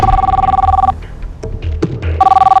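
A telephone rings in two loud electronic trilling bursts close by, separated by a pause filled with faint shuffling and small knocks.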